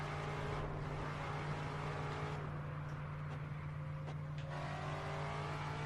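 Racing car engine in the Project Gotham Racing 4 video game on Xbox 360, a steady droning hum with a constant low tone and faint shifts in pitch, heard alone at low volume.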